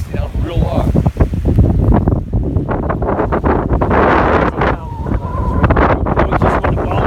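Strong gusts batter the microphone beside the water at Buckhorn State Park on Grand Island, New York, a loud, rumbling roar that surges and dips, with lapping waves underneath.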